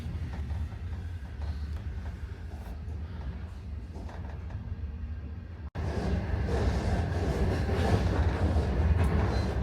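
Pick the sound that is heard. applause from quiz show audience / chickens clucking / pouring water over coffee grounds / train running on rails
train running on rails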